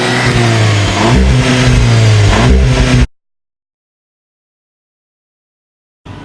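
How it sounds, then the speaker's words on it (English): A new Volkswagen Golf R engine revs hard on launch control, loud and close, its pitch climbing and falling for about three seconds before cutting to dead silence, with a brief return of engine noise at the very end. "launch control. Oh, rev it."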